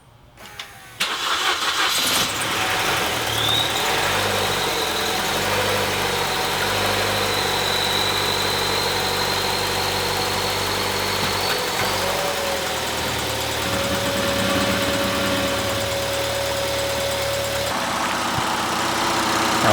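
A Chevy Cruze with an overheating problem and a suspected head gasket fault starts on ramps in a shop, then settles into a loud, steady idle with a continuous engine hum.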